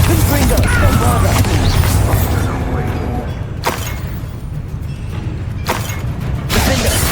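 Bombarda and Confringo spells blast during Hogwarts Legacy combat on PS5, heavy booms and shattering crashes in a dense, loud barrage, with a couple of sharp bursts standing out and voices speaking through the fight.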